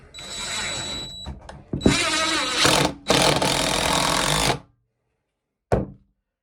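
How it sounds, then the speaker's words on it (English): Power drill driving screws into a wooden screen printing frame, with several loud whirring bursts of a few seconds each, close by and separated by short pauses, ending in one brief final burst. "Ready to screw it on."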